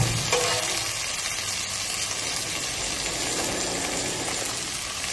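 Salted, turmeric-coated fried vanjaram fish going into a pan of browned onions for a fish curry, a loud continuous sizzle with a brief clatter at the start, no voices.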